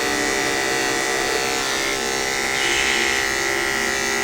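Electric clippers buzz steadily and loudly while shaving matted fur on a Shih Tzu during grooming, a continuous close drone with slight shifts in tone as the blade works through the coat.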